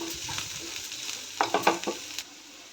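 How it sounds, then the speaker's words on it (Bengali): Food frying in a pan with a little refined oil for homemade pasta gives a soft hiss, with a quick cluster of louder scraping stirs and crackles near the middle before settling back down. "এটাকে একটু ফ্রাই করি। এটা একটু ব্রাউন ফ্রাই হবে, একদম হালকা তেল দেবে।"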